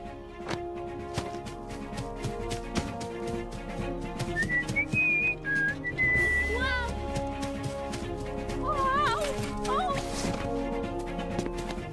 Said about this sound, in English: why were you whistling like that?